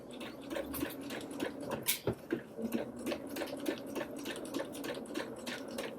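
A sewing machine stitching around the armhole of a doll dress, giving a quick, even patter of needle strokes at close range, with a brief clack midway.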